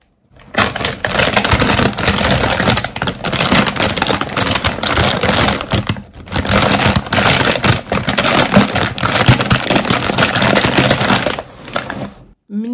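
A bag of chips is picked up close to a small microphone, making loud, continuous crinkling and rustling of the plastic packaging in long bursts with brief pauses between them.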